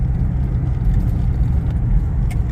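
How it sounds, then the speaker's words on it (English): A pickup truck engine idling as it warms up on a cold day, a steady low rumble running throughout with no voices. "And it takes forever for my truck to warm up."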